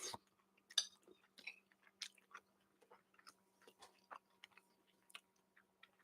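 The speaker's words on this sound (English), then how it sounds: "I hope you can hear me chewing because I'm leaving a lot of dead air" Someone chews food with chana masala close to the mic, producing soft, irregular crunches and mouth clicks separated by quiet gaps, with no talking.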